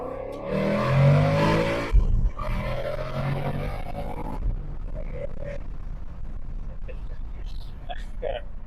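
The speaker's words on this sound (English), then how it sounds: "let's see if we can get a decent first gear pull" A 2024 Ford Mustang GT accelerates hard in first gear with a loud, rising engine roar that peaks early, then settles into a steadier drone as the pull goes on, heard from inside with a voice talking over it.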